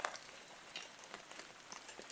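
Soft, steady rain patters on a surface, with scattered individual drops ticking faintly throughout, no voices present.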